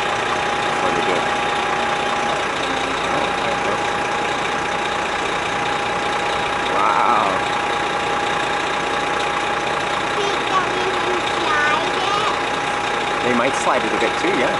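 A Toronto Fire aerial ladder truck runs its engine with a steady, loud idling rumble that continues throughout, while voices murmur faintly nearby.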